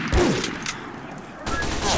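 Submachine gun fire from a video game duel, bursts of rapid shots under a dense, noisy mix with a gap midway before firing resumes loudly, players' voices faintly present.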